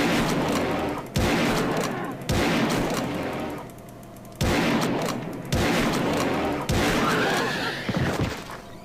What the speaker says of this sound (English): I'm just gonna gun them down